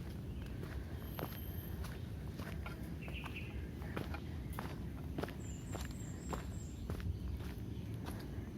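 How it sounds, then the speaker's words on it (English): Birds on a forest hiking trail chirp in short scattered calls and thin high whistles over steady footsteps crunching along the path, with a constant background hum. "You can hear lots of birds."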